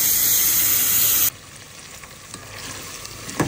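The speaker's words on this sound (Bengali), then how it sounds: "নুডলসের জন্য যে ফুলকপি, ডিম, তারপরে একটু ম্যাগি মশলা সব দিয়ে খুব ভালো করে বসিয়ে নিলাম" Cauliflower, egg and Maggi masala frying in a pan for noodles, a loud close sizzle that cuts off abruptly, followed by quieter intermittent stirring and clatter.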